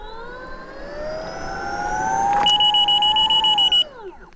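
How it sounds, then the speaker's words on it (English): A Leaperkim Veteran Lynx electric unicycle whines as its motor rises in pitch, then lets out a rapid run of about eight sharp, loud electronic beeps before the whine winds down. "I want to hear the wheels beeps."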